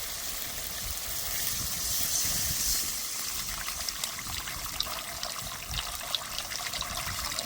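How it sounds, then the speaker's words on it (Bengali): Water pours into a pan of fried spice paste for a rohu fish curry with no onion or garlic, a steady gushing trickle that settles into bubbling and light spattering. "এবার দিয়ে দেবো জল।"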